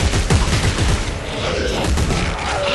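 Gunfire from the Dead Space video game, a dense fusillade of shots and booms running loud and steady across the whole stretch with no talk over it.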